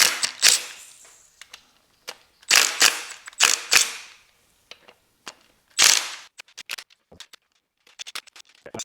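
Ratcheting and sharp metallic clicks from wrenches loosening bolts on a BMW S85 V10 engine during teardown, coming in irregular bursts of rapid clatter separated by short pauses, close and fairly loud.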